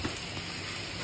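A spice mix hits a hot, sizzling pan with tomato and ginger paste for a home-cooked Bengali mutton korma; a steady broadband sizzle with a faint stir, close and alone for about a second.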